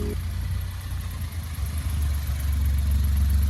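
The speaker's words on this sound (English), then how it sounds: "there is a leak in the exhaust system" A VW Polo TSI idles with a leak in its exhaust system, a steady low mechanical rumble that holds close and even, growing slightly fuller toward the end.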